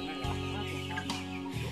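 Black-tailed Pradu chickens on a farm give soft, close clucks over a low steady background hum.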